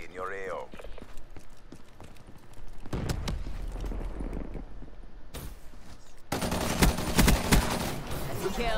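Gunfire in the video game Call of Duty: Black Ops III: scattered shots at first, then louder stretches of rapid fire that build toward the end, mixed with frequent talking.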